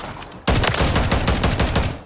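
Stinger Hawk ACR .450 Bushmaster rifle fired in Call of Duty: Modern Warfare, a sudden loud, rapid burst of heavy shots in quick succession that continues to the end.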